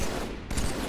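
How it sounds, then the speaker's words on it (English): Halo video game gunfire comes as a short, dense burst of loud shots that fills the brief moment with a rough, crackling blast. "I just shot Demon two times in the side of the head"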